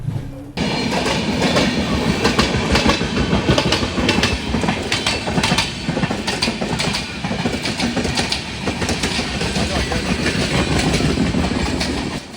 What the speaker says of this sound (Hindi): ये बिल्कुल पैरेलल में देवगिरी एक्सप्रेस हमें ओवरटेक कर रही है